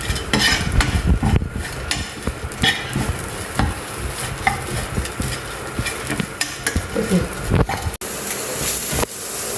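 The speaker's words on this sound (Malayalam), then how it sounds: "ഇനി ഇത് നല്ല ഗോൾഡൻ ബ്രൗൺ കളറിൽ വറുത്തെടുക്കണം." Pepper and cumin dry-roast in a pan for a roasted-masala sardine curry, the close sound broken by repeated scraping and clattering strokes of stirring over a low sizzle.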